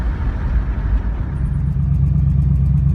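A 1968 Mercury Montego station wagon rolls along with a loud, steady engine and road rumble heard from inside the cabin, a faint high squeak ticking through toward the end.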